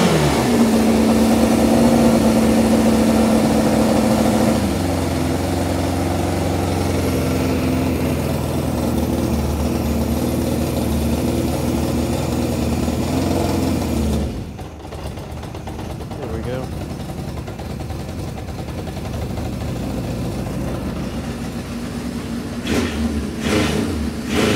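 Vintage Honda CB550 motorcycle engine running off choke at a fast idle, a steady, loud, close mechanical drone that holds throughout with a slight shift in tone midway.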